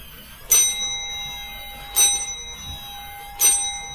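A bell in a house rings three times at even intervals, each bright strike followed by a long sustained ringing tone that lingers between hits, with no talking.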